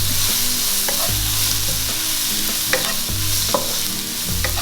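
Sirloin steak sizzles steadily in a hot pan while a utensil stirs and scrapes it, with a few sharp clinks of metal against the pan over the constant frying hiss.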